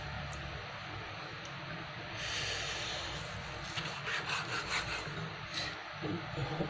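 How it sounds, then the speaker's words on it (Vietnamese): Dog meat and bones being cut into small pieces with rough, continuous sawing and scraping strokes that grow busier midway, heard fairly close with no talk. "Thôi cắt nhỏ ra để nó trộn thử nhá."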